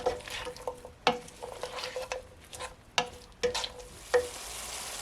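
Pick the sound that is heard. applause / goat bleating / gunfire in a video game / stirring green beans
stirring green beans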